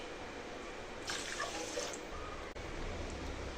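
Water splashes briefly from a tap, a short gush of running liquid poured into rice for cooking, over a steady low background hum, with no talking.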